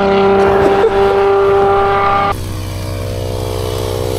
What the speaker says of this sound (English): the pump is on right now and it is inflating that little tire over there